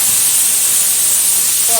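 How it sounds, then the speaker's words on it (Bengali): Potato and pointed gourd pieces fry in hot oil, a loud, dense, continuous hiss of sizzling close up for the whole short stretch. "পটল আর আলুটা খুব ভালোভাবে ভেজে নিতে হবে।"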